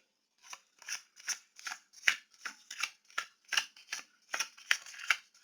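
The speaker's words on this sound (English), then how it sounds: "I used to have such trouble shuffling this deck" Repeated crisp riffling bursts as a deck of cards is shuffled, about a dozen quick rhythmic flutters, close and quiet with no talking.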